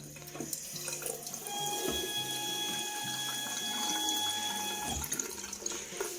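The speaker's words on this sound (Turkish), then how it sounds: "bakın musluğu açınca her yerden sular fışkırıyor" Water sprays and splashes from a leaking ECA bathroom sink faucet with a faulty cartridge, a steady, close hiss and gush under a faint tonal whine, running throughout.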